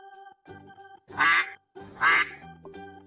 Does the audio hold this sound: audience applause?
no